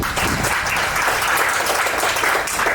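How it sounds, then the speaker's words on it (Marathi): Sustained applause from a large audience at a company event, dense steady clapping filling the whole stretch with no voice over it. "त्याच्यासाठी या दोन्ही व्यक्तींसाठी जोरदार टाळ्या वाजवू."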